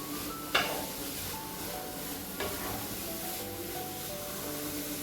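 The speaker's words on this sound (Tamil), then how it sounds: "நெய்யிலேயே நல்லா வதக்கிடணும்" Carrots sautéing in ghee for carrot halwa hiss in a steady, moderately quiet sizzle, broken by two brief scraping clinks of a spoon against the pan.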